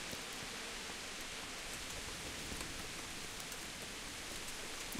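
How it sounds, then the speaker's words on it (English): Rain falls in the medieval video game Kingdom Come: Deliverance, a soft, even hiss of steady downpour heard alone and fairly faint for the whole stretch. "Anyway, it's raining."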